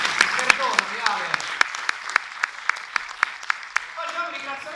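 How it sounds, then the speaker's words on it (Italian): Applause from a theatre audience at an amateur theatre festival, scattered clapping with distinct individual sharp claps at a steady pace, heard beneath a speaking voice that continues over it. "salutate un applauso a Alessandra Borrelli che non avevo visto nel buio"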